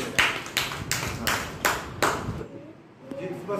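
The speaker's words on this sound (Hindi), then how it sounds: "तमन्ना के लिए और उसकी मम्मी पापा के लिए तालियां बजा देते हैं" A small group clapping for a pupil at a parent-teacher meeting in a government primary school, several short, evenly spaced bursts of nearby hand claps that stop after about two and a half seconds, with faint talk after.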